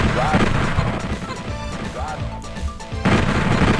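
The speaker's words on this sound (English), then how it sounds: "He's shooting at me." Enemy gunfire in the video game Choirboy, dense bursts of shots and crashing impacts filling the clip almost continuously, with a brief lull before it resumes loudly.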